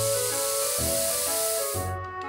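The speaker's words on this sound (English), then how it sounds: "This spray will bring the itchiness down." Cartoon spray bottle misting medicine onto itchy skin, a steady broadband hiss lasting about two seconds and then cutting off, with a soft musical tone underneath.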